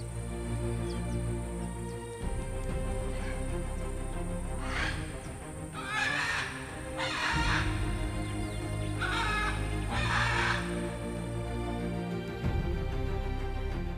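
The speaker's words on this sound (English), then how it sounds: "the call of the great blue macaw cuts through the air with a tone that cannot be" A great blue macaw in the wild Chaco gives several loud, harsh squawks in two bursts near the middle, over a steady tonal background drone.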